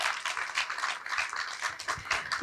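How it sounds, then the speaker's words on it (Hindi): Audience clapping at a Hindi kavi sammelan poetry gathering held at a hospital, a lively burst of many hands beating in quick, uneven pulses, moderately close and without speech over it. "और इजाजत कैसे देते हैं जरा मुझे बता दीजिए तालियों से"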